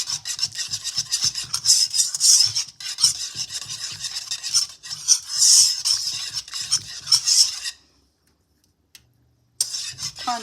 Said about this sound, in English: I might even try to whisk it just a little bit to see if that might